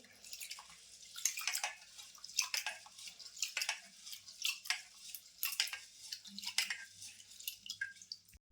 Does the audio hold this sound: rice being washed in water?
yes